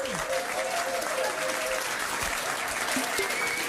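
Pub quiz crowd at The Granta clapping in a steady, dense round of applause that fills the room, close and continuous, with a few voices underneath.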